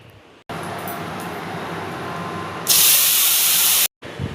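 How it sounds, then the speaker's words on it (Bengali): Cumin seeds hit hot oil in a kadai with a sudden, steady hiss. The sizzle brightens sharply partway through and stays loud and close until it cuts off. "আমি আবারও ওই একই কড়াইতে একটু তেল দিয়ে দেব ফোড়নের মধ্যে জিরে"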